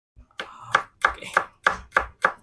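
A knife chops onions on a board in seven sharp, evenly spaced strokes that are close and loud, with no voices.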